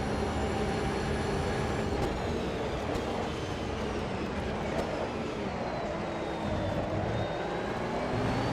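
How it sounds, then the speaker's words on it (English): In the racing game Automobilista 2, a train rolls past with a faint, steady rumble of wagons and high whining wheel squeals, held at a low level for the whole stretch. "Nice train."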